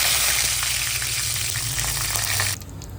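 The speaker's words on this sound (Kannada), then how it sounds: "ಸಾಸಿವೆ ಬ್ಲಾಸ್ಟ್ ಆಗ್ತಾ ಇದೆ, ಪಟ ಪಟ ಪಟ ಅಂತ" Mustard seeds and curry leaves hiss in hot oil for a South Indian tempering, a loud, close, steady sizzle that fills the moment before dropping sharply to a quieter crackle near the end.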